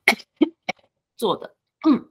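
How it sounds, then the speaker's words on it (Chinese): A person recovering from a recent illness coughs several times in short, sharp bursts spaced across two seconds, close to the microphone, with a few spoken words in between. "所以现在还会咳咳嗽这样子"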